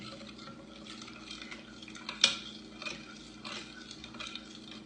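A spoon stirs whole milk into an ice cream mixture in a bowl, with soft swishing and a few light clinks against the bowl, one sharper knock midway, quiet and close with no talking.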